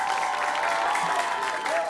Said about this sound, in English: Big round of applause for both schools.